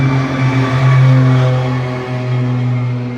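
A Porsche 911 GT3 Cup race car engine drones loud and steady, its pitch swelling and easing slightly as it passes nearby.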